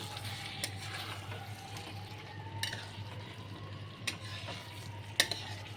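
Potatoes and pointed gourd being stirred with ghee in a pan for a vegetarian alur dom, a faint low sizzle under a steady hum, with a few sharp clinks of a spoon against the vessel.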